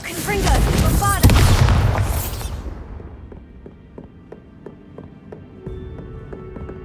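A Bombarda spell explodes in Hogwarts Legacy, a loud booming blast that lasts about two seconds and then fades into a low rumble with faint scattered ticks.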